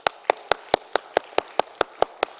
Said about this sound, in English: Let me clap for you, sir.